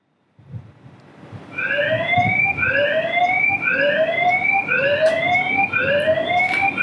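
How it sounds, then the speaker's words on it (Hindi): A Consistent Mini PT CT-CM-3MWPT security camera's siren sounds loud and alone, a repeating rising electronic wail in quick sweeps that keeps cycling steadily after a brief pause. "नाउ द इसका सायरन जो है वो भी ऑन हो चुका है।"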